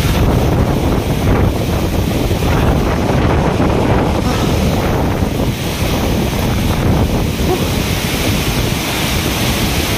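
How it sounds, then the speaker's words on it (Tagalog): Strong wind gusting near Bomod-ok Falls in the Cordillera, a loud, continuous roar blending rushing air and falling water that buffets the microphone steadily throughout. "Lakas ng hangin."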